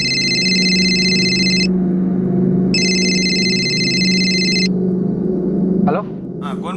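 A mobile phone ringtone plays in two long bursts of a bright repeating electronic tone, separated by a short gap, over a continuous low hum before it cuts off.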